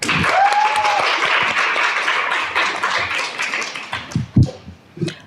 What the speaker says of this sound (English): Give a big round of applause for Andy Lenhart.